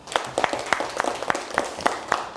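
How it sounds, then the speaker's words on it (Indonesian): A small class of students claps together, a brisk patter of many hands with a fairly regular rhythm, close and moderately loud. "tepuk tangan untuk kita semua"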